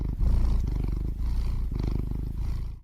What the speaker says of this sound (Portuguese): Ronronar.